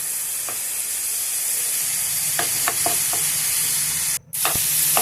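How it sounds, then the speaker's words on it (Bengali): Spice paste fries in oil under a steady hiss, with a few sharp taps and scrapes of a spoon stirring it, close and even, briefly cutting out near the end, no talk. "এই মশলাটা কষিয়ে নেব আমি যতক্ষণ না মশলার থেকে তেলটা ছেড়ে আসে।"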